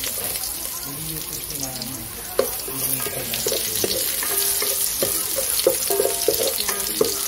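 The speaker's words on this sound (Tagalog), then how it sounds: "Tapos, lagyan na natin yung bawang." Garlic sautéing in a little oil in a pan, the start of a beef oregano dish: a steady sizzle with a few clinks and stirring scrapes, and a voice talking over it.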